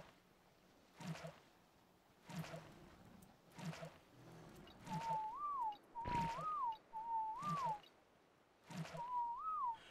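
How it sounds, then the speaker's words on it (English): A repeated two-note rising-and-falling whistle for the passive flee command in Ark Survival Evolved, sounding about five times in a steady rhythm over soft thumping game noise. "passive flee, passive flee, passive flee, passive flee. That's just all I'm whistling."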